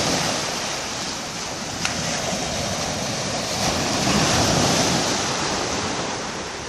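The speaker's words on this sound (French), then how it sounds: "La vague qui s'écrase sur les galets." Ocean waves crash and wash over a pebble beach at St Paul, Réunion, a loud continuous roaring surf with rising swells and some wind buffeting, no talk.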